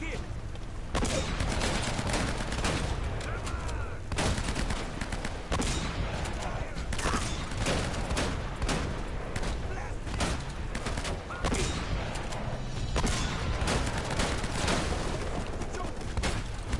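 Rapid bursts of gunfire rattle almost nonstop in the video game Uncharted: Drake's Fortune. The volleys are loud and dense, and a voice talks over them at times.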